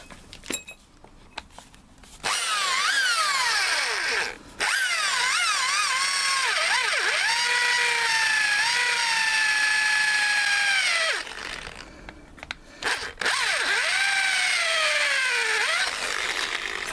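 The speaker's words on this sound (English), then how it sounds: "make sure the auger bit is cutting" An auger bit drills holes about an inch deep into a log for a suet bird feeder, heard as a loud, steady whining drill with pitch sweeps as the load changes, in three long runs separated by short pauses.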